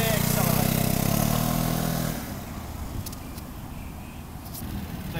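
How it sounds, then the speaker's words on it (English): A scooter engine revs loudly and steadily under applied throttle for about two seconds, then drops back to a quieter, lower running rumble. "Little bit of throttle till you hear the engine wants to go."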